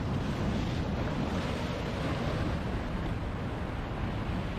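Sea waves break constantly against rocky cliffs, a loud, continuous roar of surf and spray mixed with wind, close to the listener.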